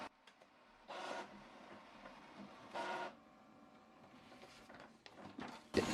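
An Epson ET-3850 wireless inkjet printer copying a document, its mechanism whirring and clattering in several short bursts separated by quieter mechanical hum, ending with a sharp clunk, close by.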